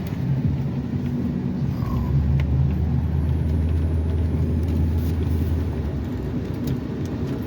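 A plow truck drives along a snowy road with its plow blade out, giving a steady low engine rumble and broad road noise that continues without a break.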